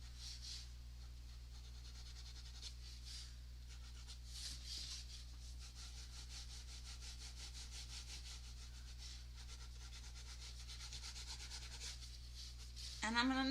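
A pencil scratches across paper while drawing scratchy texture lines, making a faint, continuous dry rubbing with quick back-and-forth strokes over a low steady hum, close to the microphone.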